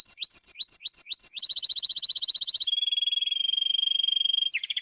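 A canary sings alone and clearly: quick repeated chirps, then a rapid buzzing trill that drops to a lower steady roll before a final flourish.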